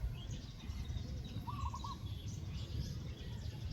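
Maya bungol birds in a rice field give faint, distant chirps and a short trilling call over steady outdoor background noise, no one speaking.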